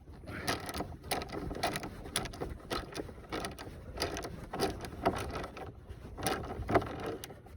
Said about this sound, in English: Grab our ratchet.